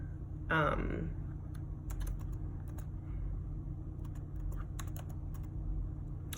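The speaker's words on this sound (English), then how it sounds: "So now we would type in" Light, irregular tapping of keys on a computer keyboard, close and quiet over a low steady rumble, with a short voice near the start.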